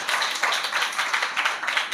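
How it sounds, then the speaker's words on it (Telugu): A congregation at a Telugu Christian service claps in praise, a steady rhythmic patter of many hands in unison that keeps an even beat for a couple of seconds. "చప్పట్లు కొడదాం దేవుని స్తోత్ర"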